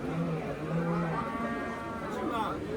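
Cattle, including heifers and dairy cows, mooing in a noisy livestock market in Chiroqchi, Uzbekistan, several low calls overlapping with background chatter and crowd murmur.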